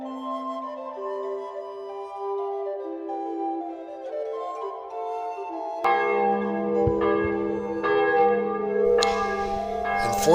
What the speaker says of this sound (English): the bells of the cathedral began to peal